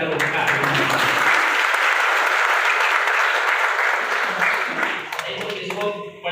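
Loud, sustained applause from a crowd at a labour union event in a hall in Malegaon, dense and even, tapering slightly near the end.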